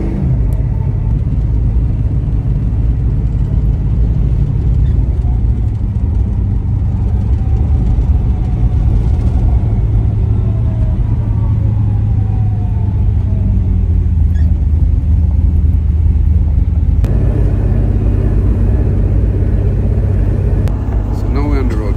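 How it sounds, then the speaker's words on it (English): A 1970 Chevrolet Chevelle LS6 cruising along back streets at about 35 mph, heard from inside the car as a loud, steady engine rumble and road roar with a slight shift in tone near the end. "Now we're riding along in the Chevellle."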